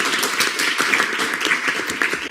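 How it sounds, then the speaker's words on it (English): A student government senate audience in a meeting room applauds newly elected vice chairs, a dense, steady patter of many hands clapping together at close range for a couple of seconds. "So another round of congratulations for our newly elected vice chairs. Go ahead, clap it up."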